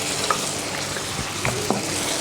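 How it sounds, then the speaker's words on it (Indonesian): A spoon or spatula scrapes through a sizzling Padang sauce of tamarind water, tomato, oyster and chili sauces, with soft clicks over a constant frying hiss. "Ini kita aduk."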